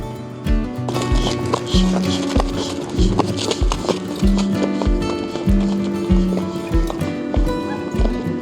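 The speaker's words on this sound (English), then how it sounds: "So the mares are being run down to this pasture that I'm at right now" A band of mares gallops across a pasture, with loud rhythmic hoofbeats pounding steadily close by and a faint whinny among them.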